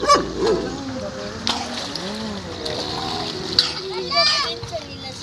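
Water splashing as people bathe in the sea, with irregular splashes and a voice and other voices talking over the lapping water.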